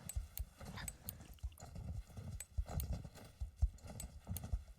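Horse hooves clip-clop in the Star Stable video game, a quick uneven run of close hollow knocks that keeps going without a break, with faint soft sounds now and then.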